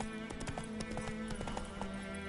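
Hooves of Geralt's horse Roach in the video game Witcher 3 clop in a quick, regular rhythm, a rapid run of fairly quiet hoofbeats with a faint tonal game hum beneath.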